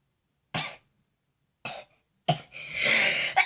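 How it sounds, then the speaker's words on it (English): A person who is sick sneezes in three sharp bursts separated by short silences, the last one longer and harsher, close to the microphone. "I didn't sneeze anything out of my nose holes"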